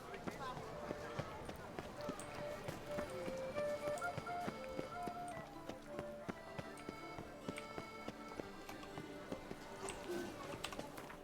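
Rapid hoofbeats of a galloping horse in The Witcher 3 clatter steadily under the game's music and effects, with voices talking over them.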